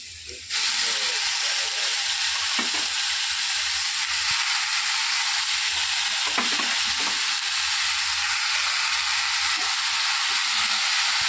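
Saag greens frying in a small amount of oil, a steady loud sizzle that starts abruptly and holds for several seconds, with occasional scrape and stir clicks close by.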